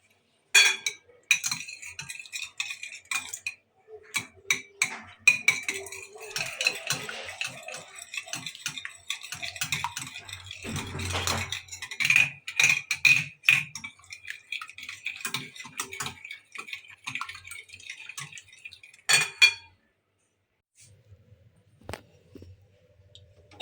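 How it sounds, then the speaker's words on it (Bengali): Eggs beaten for a cake with a utensil rapidly clinking against a bowl, a busy, continuous metallic rattle lasting nearly twenty seconds before fading to a few faint knocks. "ডিমটাকে একটু ফেটে নিব।"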